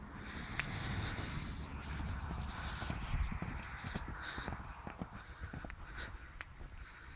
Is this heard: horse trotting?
yes